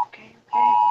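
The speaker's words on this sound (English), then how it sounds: "we're getting a flash flood warning." A phone emergency alert for a flash flood warning beeps loudly near the mic, a short tone, a brief gap, then a long steady electronic beep.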